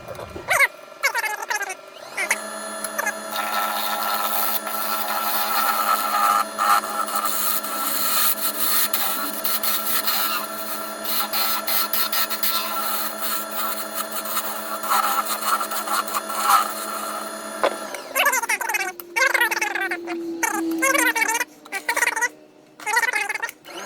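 Power tool spinning at about 1500 RPM while shaping wood for a small pill box, a steady loud whirring rasp held for about fifteen seconds, with the machine winding down and shorter scraping at the start and end.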